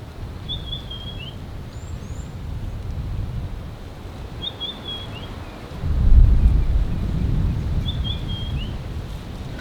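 Low, rumbling wind buffets the microphone in gusts on a warm day in the Londolozi bush, swelling midway, while a bird repeats a thin, high call three times in the background.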